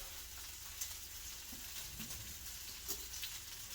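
Thin slices of garlic sizzling quietly in olive oil, a soft steady frying hiss with a few small pops and stirring clicks, heard up close and alone.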